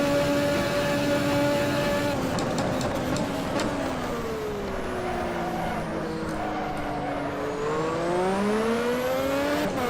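A 1988 Formula One car engine in the Automobilista racing game screams continuously, dipping as it downshifts through a chicane and then climbing in pitch as it accelerates away, heard alone without talk.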